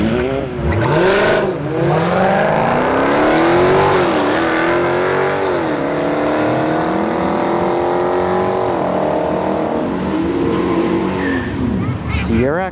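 Scat Pack 1320 Dodge Charger and a turbocharged Honda CRX launch down a test-and-tune dragstrip, engines revving hard and rising through gear changes with tire squeal, loud and close over a track announcer's voice.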